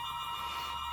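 Background telephone ringing indoors, a continuous electronic bell tone sustained at an even, moderate level with no voices.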